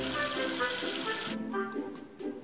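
Water runs from a tap, rinsing soap away in a steady rushing splash that cuts off partway through, leaving a fainter trickle and soft background noise.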